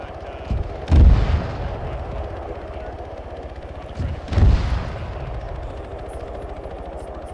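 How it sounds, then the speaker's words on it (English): Two heavy booming blasts from a frag grenade striking a tower in a military video game, about three seconds apart, each with a rumbling tail over steady background battle noise. "frag just hit the tower"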